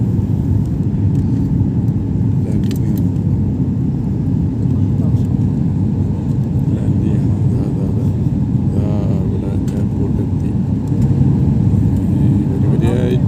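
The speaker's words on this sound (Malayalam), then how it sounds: "ഞങ്ങളുടെ ഫ്ലൈറ്റ് കുറച്ചുകൂടി താഴ്ന്നു" Steady, loud engine roar and rumble inside an airplane cabin as the flight descends in landing position, a constant low drone with faint hiss and no break.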